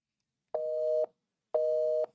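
Busy tone on a phone call after the call is rejected: two identical steady electronic beeps, each about half a second long with a pause between them, clear and alone with no talk.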